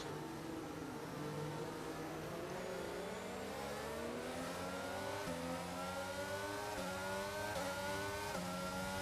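Several open-wheel Formula 1 racing car engines in F1 22 at the Miami circuit whine loudly and continuously, with rising pitch sweeps as the cars accelerate through the gears and brief dips at each upshift.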